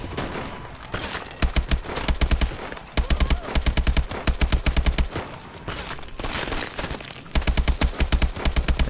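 Gunfire in the video game Call of Duty Advanced Warfare, rapid automatic bursts repeating in loud clusters over a dense battle soundscape, close and relentless with short gaps between volleys.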